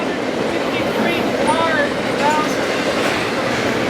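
An eastbound train rolls past close by in a steady, continuous rumble with faint rhythmic clatter and occasional high squeals of wheels, while voices talk over it.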